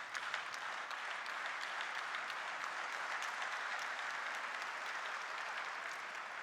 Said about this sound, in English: Slow clap starting in the crowd.